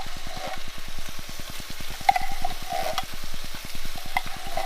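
A canned soup mixture is stirred in a bowl for ranch pork chops, a quick regular run of wet scraping strokes, close and fairly loud, with no talk.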